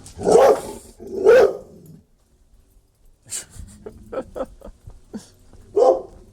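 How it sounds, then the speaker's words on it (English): A dog barks repeatedly while following along a fence, two loud close barks followed by a few shorter, quieter yelps and a final bark, with brief pauses between. "You can have a couple of barks."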